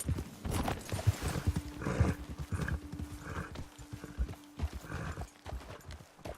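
Horses gallop in the Red Dead video game with a fast clip-clop of hooves up close and loud, along with neighing and snorting and a steady low hum beneath.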